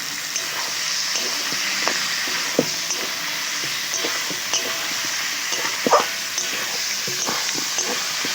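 Chicken and whole small potatoes fry in a pan with a steady, even sizzle, close and moderately loud, broken by occasional clicks and scrapes of stirring.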